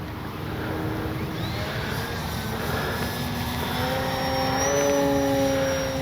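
A radio-controlled model airplane flies overhead with its motor humming steadily. The whine slowly rises and bends in pitch as the plane passes through its manoeuvres, and no one speaks.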